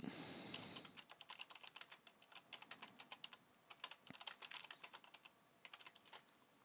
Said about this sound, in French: juste pour vous montrer que je tape en temps réel